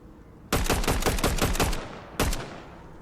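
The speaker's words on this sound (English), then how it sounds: "before we rotate, we can actually get some shots off" Rapid gunfire in the Fortnite video game, a quick burst of about eight sharp shots followed after a short gap by two more, loud and crisp with brief echoing tails.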